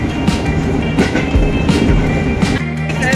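A commuter train pulls in on an Indonesian rail line bound for Bogor, a steady loud rumble with rolling clatter and metallic squeal, no voices over it.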